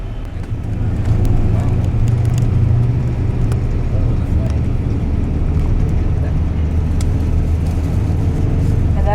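Car driving south out of downtown Lima, Peru, on city streets, a steady loud low engine and road rumble running throughout with faint traffic sounds above.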